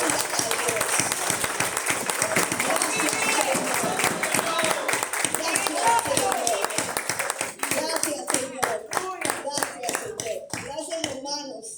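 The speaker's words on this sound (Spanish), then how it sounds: "le voy a pedir que dé un aplauso al Señor" A church congregation at a Spanish-language Resurrection service applauds the Lord, with dense sustained clapping that thins into scattered individual claps toward the end, plus a few voices.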